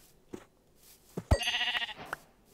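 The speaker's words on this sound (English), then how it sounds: "I kill this sheep" Sheep in Minecraft bleating in a short wavering cry, preceded by a couple of soft game thuds, close and clear with no talk.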